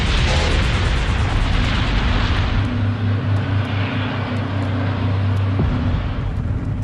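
Deep, roaring explosions rumble after a plane collision in a foggy airport reenactment, a loud sustained blast with crackling fire and a low drone that fades slightly near the end.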